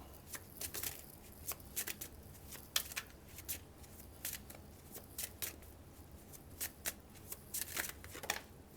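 Tarot cards being shuffled and drawn, a quiet close-up series of crisp flicks and riffling snaps in an irregular rhythm, with no voices.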